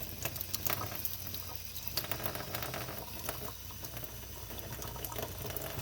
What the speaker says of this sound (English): Allow the running water to do the cleansing action for you.